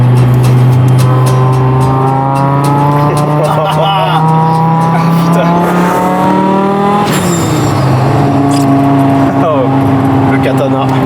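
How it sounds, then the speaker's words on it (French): An Audi at full throttle with its exhaust valve open, a loud, close engine howl rising steadily in pitch, with a sharp gear-change drop partway through before climbing again. "Là si j'ouvre le clapet."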